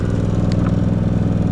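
An inverter generator on low idle gives off a loud, steady, close-up engine hum with an even rhythmic pulse and no voices over it.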